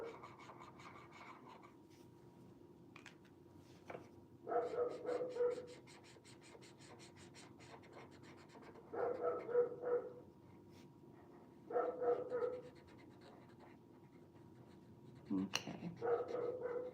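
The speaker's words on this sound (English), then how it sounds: "So I apologize for the dog." A dog barks and whimpers in a few short bursts, fairly faint and roomy, separated by stretches of quiet scratching and writing sounds from someone drawing.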